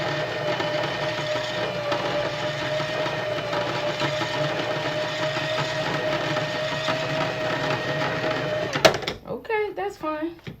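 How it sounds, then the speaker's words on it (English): A sewing machine winds a bobbin in a steady, fairly loud mechanical hum for several seconds, then stops abruptly and a person starts talking. "That's how you thread a bobbin."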